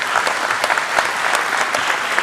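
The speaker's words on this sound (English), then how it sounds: "May I ask for a big round of applause for the man." Dense audience applause at an IPO celebration event, steady crowd clapping throughout with no individual voices standing out.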